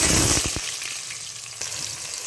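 Onions dropped into hot oil in a home kitchen pan while cooking aloo band gobhi, setting off a loud, steady sizzle with a few sharp crackles at the start, close and alone without speech.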